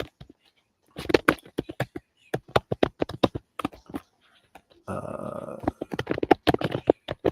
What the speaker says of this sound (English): This is the sound of me typing and talking at the same time.